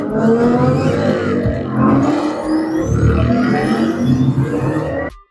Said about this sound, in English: during the race scene where the cars crash into each other